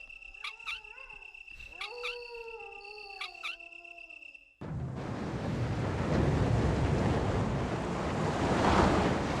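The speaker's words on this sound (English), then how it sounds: "the water has been successfully drained" Water drains through a passage in the Resident Evil video game: a burst of game tones first, then a sudden, loud, sustained gushing rush that grows slightly stronger toward the end.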